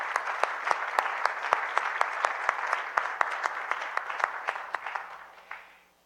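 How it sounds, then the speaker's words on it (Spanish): An audience at a televised debate on infrastructure and concessions gives a round of applause, brisk and fairly close, holding steady for several seconds before tapering off and fading out. "Un aplauso,"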